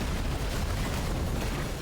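A boss-fight explosion in Genshin Impact, a sustained dense rumbling blast that stays loud and broadband throughout, with no voices.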